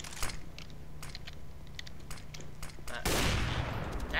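A decoy grenade in the shooter game CS:GO mimics gunfire with scattered sharp shot-like bursts, ending in a louder, denser volley.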